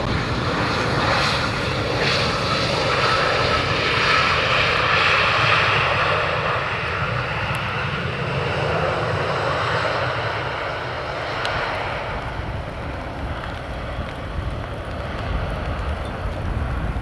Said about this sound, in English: this one is yet another City Hopper, Embraer